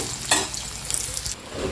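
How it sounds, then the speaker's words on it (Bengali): Sliced onions sizzle in hot oil in a wok, a steady bright hiss with a few louder crackling bursts, close and without talk. "পেঁয়াজটা ভাজা হবে।"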